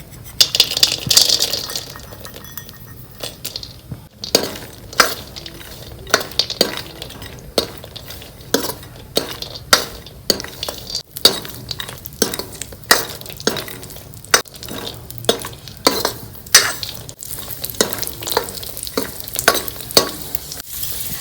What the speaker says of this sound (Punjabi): ਇਹ ਆਪਾਂ ਡਰਾਈ ਫਰੂਟ ਭੁੰਨ ਲਾਂਗੇ ਇਹਦੇ ਵਿੱਚ ਜੀ ਰੋਸਟ ਕਰ ਲਾਂਗੇ